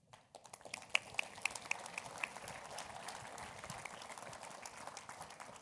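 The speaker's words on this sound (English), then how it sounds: "Armine applauded louder than all of you did for the Minister of Finance" An audience at a municipal conference economic recovery panel applauds, a dense spread of claps with a few sharper nearby hits, steady through the whole stretch and moderately far off.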